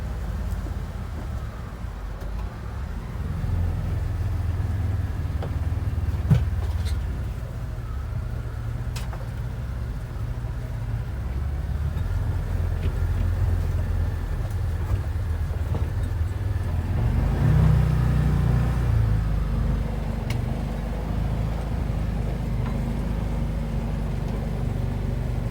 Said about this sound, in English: Oh, not a problem for the Can-Am Defender. I'm so impressed with this thing.